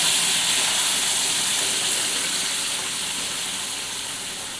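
Hot water pours into a hot pan of sautéed chicken for a curry, giving a steady, broad, loud hiss and sizzle that eases off slightly toward the end.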